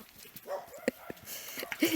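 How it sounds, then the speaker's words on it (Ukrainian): Dogs bark in short, scattered bursts at a middle distance outdoors, mixed with ambient noise and faint background sounds. "Туди дивлюся на собак, гавкають, на Катю навела камеру."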